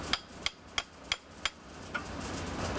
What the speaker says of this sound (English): tap it with a hammer to snap